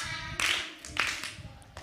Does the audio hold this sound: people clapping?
yes